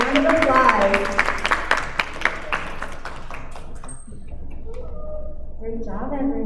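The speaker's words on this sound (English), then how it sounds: "Let's give them all a round of applause" Applause for student competition winners at a school awards ceremony, a crowd clapping densely at first, then thinning into scattered claps before voices take over near the end.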